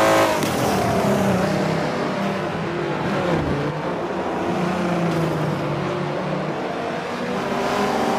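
Race cars circle Watkins Glen in Forza 7, a steady layered engine roar at full throttle with shifting pitch, loud and continuous with no talk over it.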